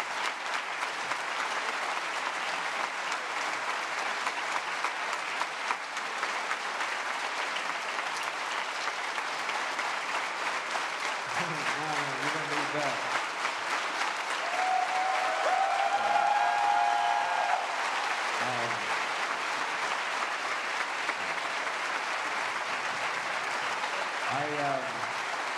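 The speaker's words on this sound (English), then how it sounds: "I felt a lot of hugs in that applause." A large audience at a lecture in a university law faculty hall claps continuously in sustained, dense applause that lasts the whole stretch, with a voice briefly speaking over it.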